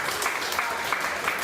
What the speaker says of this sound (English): So give him a quick round of applause for being here.